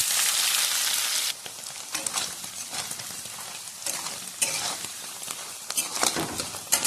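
Paneer sizzles and crackles in hot oil in a pan, loud at first, then dropping to a steadier, quieter spitting fry with intermittent bursts of popping.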